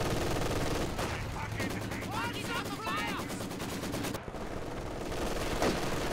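Rapid machine-gun and rifle fire strikes heavy cover in Company of Heroes 2, a dense, steady stream of loud shots running almost nonstop, with a commentator talking over the battle.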